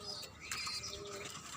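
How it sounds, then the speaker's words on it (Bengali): Pigeons and their chicks kept on a rooftop garden make soft calls, a faint cooing and chirping over a low steady background for a brief moment. "এদিকে হচ্ছে কবুতর, কবুতরের ছানা।"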